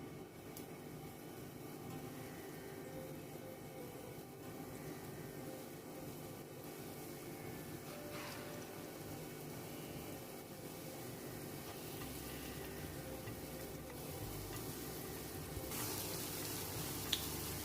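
Banana batter fries in hot coconut oil, spooned in a little at a time, giving a faint, steady sizzle that runs evenly throughout with no talking.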